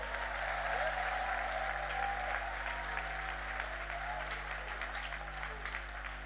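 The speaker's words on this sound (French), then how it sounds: "Si vous avez reçu ça, applaudissez pour le Seigneur." A church congregation at a youth conference applauds, a broad, even wash of clapping heard from a distance over a low electrical hum.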